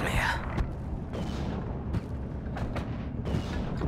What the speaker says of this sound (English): My mortars are engaging their mortars.